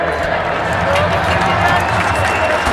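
A crowd at an HC Kometa Brno ice hockey season farewell event applauds the club's long-serving bus driver, a dense, steady wash of clapping and cheering with a low rumble throughout.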